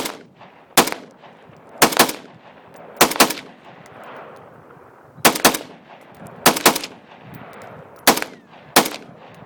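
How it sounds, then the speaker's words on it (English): A Bulgarian AK-74 rifle fires about ten loud, sharp shots outdoors, spaced unevenly as single rounds and quick pairs, each crack followed by a short echo, with no talking. "I'm going to demonstrate the recoil and the muzzle rise now. I'm going to fire a few shots through it"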